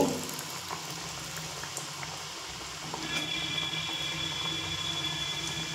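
A mung dal kachori deep-fries in hot oil, giving a continuous dense bubbling sizzle that holds steady and grows slightly fuller partway through, with no voices.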